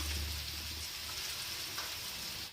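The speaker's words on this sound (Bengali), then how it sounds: "ভালো করে ভাতটাকে ভেজে নিতে হবে" Cooked rice frying in a pan for vegetable fried rice, giving a steady, close, low sizzle that runs unbroken throughout with no one speaking.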